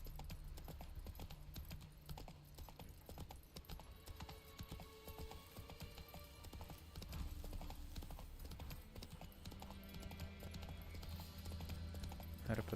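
Roach the horse trots along in The Witcher 3, with soft, rapid hoofbeats running continuously at low volume beneath faint game ambience.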